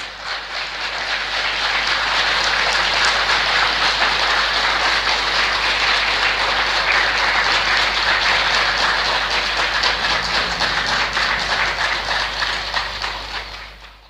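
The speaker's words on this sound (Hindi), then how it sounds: "ऐसी भावना के साथ ताली बजाएंगे।" A large audience at a spiritual satsang gathering claps steadily and densely for about fourteen seconds, a continuous rain-like wash of applause that fades at the end.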